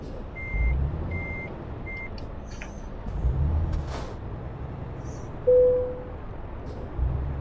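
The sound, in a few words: truck reversing beeps in a video game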